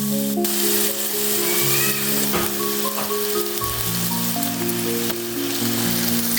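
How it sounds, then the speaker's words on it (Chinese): Minced pork stir-fried in a pan over medium-low heat: a dense, continuous sizzle with light scraping of stirring, loud and close, no talk. "中小火翻炒，炒到肉末明显变色后"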